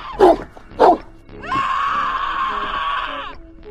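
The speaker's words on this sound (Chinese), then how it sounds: "野狗感到了不安，他发出犬吠吓唬人" A stray dog barks twice in sharp bursts, then lets out a long, loud, sustained yelping howl that holds for nearly two seconds before cutting off.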